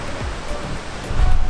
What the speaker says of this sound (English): I'm not one that actually goes into the ocean, but I don't mind sitting out here listening to the sound of it.